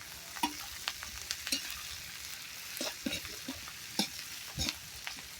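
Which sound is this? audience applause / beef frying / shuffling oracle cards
beef frying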